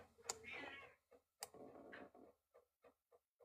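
A cat meows quietly indoors, two drawn-out meows in quick succession followed by a few soft, evenly spaced ticks or taps.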